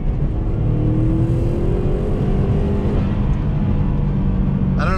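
Beater Subaru WRX engine pulling hard in second gear, a loud, close, steady drone whose pitch climbs as it accelerates, heard from inside the car.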